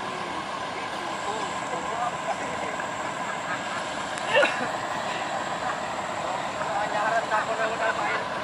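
A sugar cane railway locomotive at PG Kedawung pushes through tall grass on an overgrown track at the start of the milling season, a steady low engine rumble with a brief metallic clank midway, heard from onboard.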